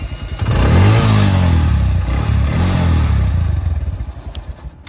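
A modified Suzuki GS150 SE motorcycle engine runs loud and close, revving up and holding a strong, steady drone for several seconds before easing off, with no talk over it.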